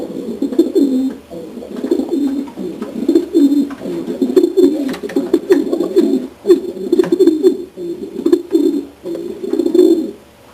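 Janssen racing pigeon cooing close up in a loft, repeated low throaty rolling coos in uneven bursts over about ten seconds, loud and alone with faint background clicks.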